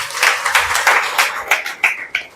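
Applause from an audience at a school batch excellence award gathering, a short burst of crowd clapping with rhythmic peaks that tapers off.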